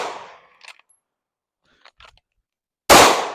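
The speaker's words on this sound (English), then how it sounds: "I'm shooting left. Let me shoot right a little bit." Glock 19 or Glock 26 pistol fired at a shooting range: one sharp, loud shot at the end, after a fading earlier report and a few faint clicks and handling noises in between.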